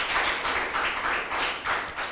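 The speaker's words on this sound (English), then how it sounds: "A big round of applause for Mother MAJERI." An audience claps steadily at a school quiz between Mother Majeri and St Francis Junior School, with the dense clapping swelling and easing in several short waves.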